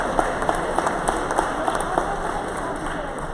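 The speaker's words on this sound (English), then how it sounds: "Let's give a round of applause to the manners officers." An audience at a USDA headquarters event for FFA students applauds the officers, with steady, fairly close clapping that runs throughout and sharper individual claps standing out.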